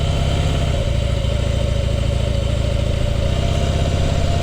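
A Harley-Davidson Twin Cam 96 motorcycle engine runs at a steady idle, a loud, close, continuous low rumbling with a rhythmic lumpy pulse throughout.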